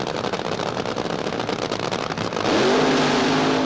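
A 1970s Funny Car drag racer roars at full throttle, a dense, loud engine howl that rises in pitch and intensity partway through.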